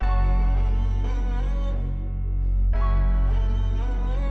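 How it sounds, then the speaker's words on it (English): A heavy FL Studio bass tracks the root notes of a sample, booming and sustained under a melodic layer that briefly thins out midway. "So I got this bass right here and I just followed the root notes and put down this right here."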